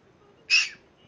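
A kiwi bird gives a single short, sharp sneeze, a quick high burst standing alone against near silence.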